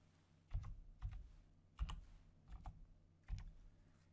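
Keystrokes on a computer keyboard entering a street name, coming as a handful of soft, separate clicks and short clusters spaced across a few seconds against a quiet room with a faint low hum.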